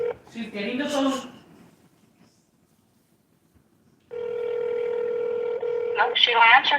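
A telephone being dialed and ringing: a steady electronic phone tone holds for about two seconds, with a voice talking just before it and again as it ends.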